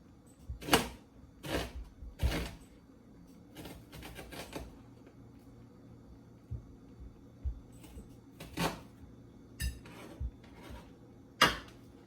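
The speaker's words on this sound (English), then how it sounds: "I'm going to cut up my onion as well. Slice it." A knife slicing an onion on a board, a series of sharp, irregular chops spaced apart with quiet gaps between them.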